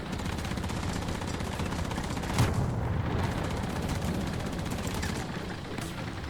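A tank battle in the War Thunder video game fills the clip with dense, continuous rumbling gunfire and explosions, with a single sharper blast cutting through partway.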